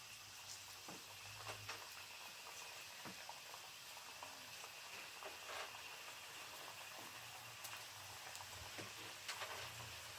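Sesame seed murukku fry in hot oil over medium heat, giving a steady, dense sizzle and bubbling hiss with faint pops that stays even throughout.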